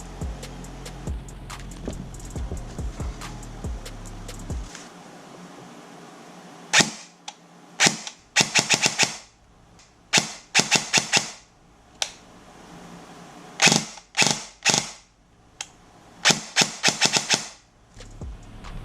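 Airsoft MP5 fitted with a Gate Aster unit fires repeated short three-round bursts, sharp and close, in clustered volleys separated by brief pauses; a low mechanical hum precedes the shooting.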